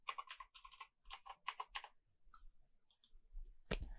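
Someone types a password on a computer keyboard in quick bursts of close, crisp key clicks, then pauses before one sharp final keystroke.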